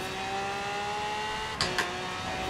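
A modded Lamborghini Centenario in Forza Horizon 3 holds a steady high engine drone with clear whining harmonics, loud and constant, broken by two brief sharp clicks near the end.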